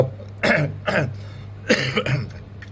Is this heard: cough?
yes